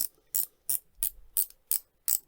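Seven crisp ratchet clicks from a 120-click dive watch bezel being turned, close up and evenly paced about three per second, with near silence between.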